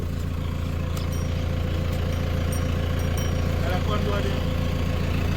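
A farm tractor idles nearby with a steady low rumbling throb, continuous and fairly loud. A voice talks over the engine.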